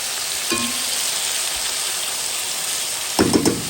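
Tomatoes dropped into a hot pot set off a steady, close sizzle that runs throughout, with a brief splash of stirring at the start and again near the end.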